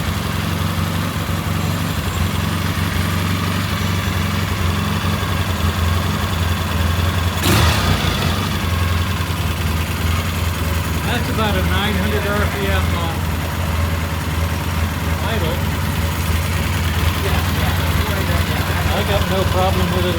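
A 1970s-era Triumph T140V motorcycle engine idles steadily throughout, a continuous mid-pitched throb, with a sharp knock partway through and people talking over it later.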